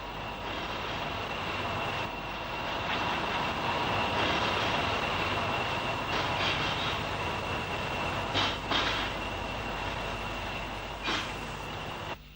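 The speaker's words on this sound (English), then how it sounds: "the sight of the Royal Scot, leaving Crewe hauled by D316" The Royal Scot train pulls out of Crewe behind diesel locomotive D316, a steady broad rumble and drone of engine and rolling wagons with a few clanks over its length.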